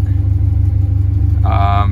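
A JDM Honda Integra engine idles with no exhaust fitted, giving a steady, loud, low rumble throughout, with a brief higher-pitched tonal whine joining near the end.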